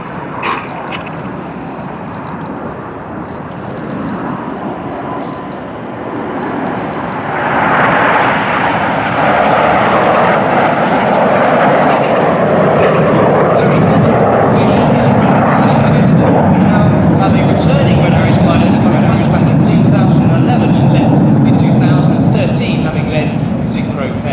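Red Arrows jets fly in formation during a left-hand turn at an airshow, trailing white smoke; a steady, broad jet roar grows louder about a third of the way in and stays strong, with a commentator speaking over it throughout.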